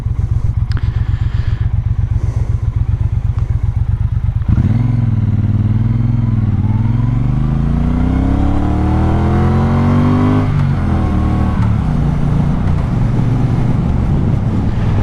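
A Triumph Speedmaster motorcycle engine idles loudly with a steady thumping pulse, then revs up hard, sweeping up and down in pitch through several climbs before settling back; close and alone, with no talking.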